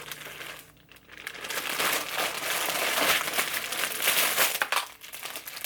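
Plastic bag crinkles and rustles steadily as a bundle of 99J burgundy synthetic hair is pulled out, a close, busy crackle lasting several seconds with a brief lull near the start and near the end.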